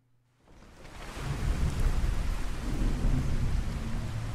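Rain and thunder in the video game Skyrim: after a brief quiet moment a dense rush of rainfall swells in, with a deep rumbling thunder roll underneath, loud and continuous.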